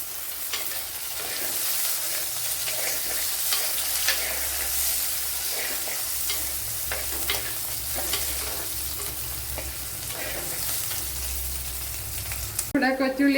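Shallots and curry leaves sizzle steadily in hot oil in a pan, with scraping stir strokes recurring throughout, and a louder clatter near the end as something is added or the pan is moved.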